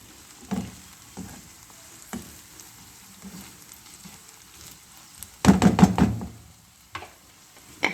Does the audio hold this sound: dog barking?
no